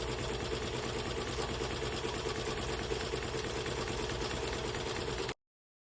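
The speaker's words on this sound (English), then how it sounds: "We are embroidering." A Bai Mirror multi-needle embroidery machine stitching steadily, a continuous fast mechanical chatter and hum at an even rhythm for about five seconds before cutting to silence.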